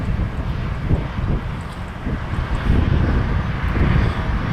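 A Swoop airliner at Toronto Pearson airport roars steadily with a broad, loud engine rumble mixed with wind noise, close and continuous, with no talking.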